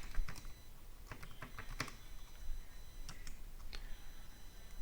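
Keys clatter on a Mac computer keyboard as a terminal command is typed, a close, moderately quiet run of irregular sharp taps with short pauses, no voices over it.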